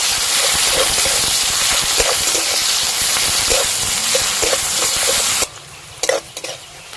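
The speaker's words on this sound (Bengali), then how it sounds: "পেঁয়াজ কুচি, পেঁয়াজটা নাড়াচাড়া করে ভালোভাবে করে নেব।" Chopped onions with two bay leaves sizzle and frying in a pan for a Bengali fish curry, loud and close, with repeated scraping stirs of a spoon before the sizzle suddenly drops away and a few clinks follow.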